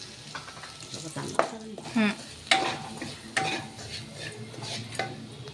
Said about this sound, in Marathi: या तुपामध्ये रवा छान भाजून घ्यायचा आहे